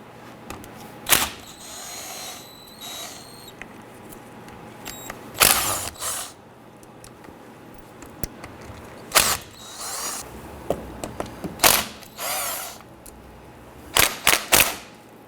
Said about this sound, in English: We're going to use a 13mm socket. We're going to go ahead and remove the lower bolts here, and we're going to loosen the upper.